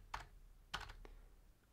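Computer keyboard typing while entering a list in Excel: a couple of quick clustered keystrokes, then a firmer key press like Enter, close and faint, with no talking.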